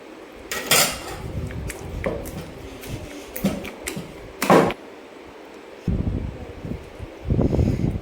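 Gongura chutney is pounded in a traditional stone mortar: irregular sharp knocks and scraping grinds of stone on stone, several louder thuds among softer rubbing strokes, with short pauses between.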